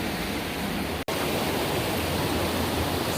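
Rushing stream swollen with high water beside an L.A. hiking trail, a steady broadband roar, loud and close, running throughout with a sudden momentary dropout early on.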